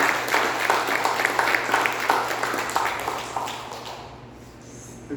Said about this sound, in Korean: 우리 박수로 하나님께 한번 영광 돌리겠습니다